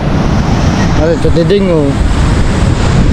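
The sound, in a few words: ocean waves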